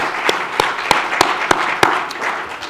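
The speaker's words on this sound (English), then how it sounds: "Let's have a big round of applause for our sponsor to the lunch." Applause for a lunch sponsor at a culinary summit, a steady wash of many hands clapping, with a few sharp, louder claps standing out at regular intervals.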